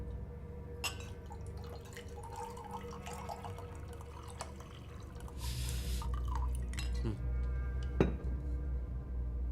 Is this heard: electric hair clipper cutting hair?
no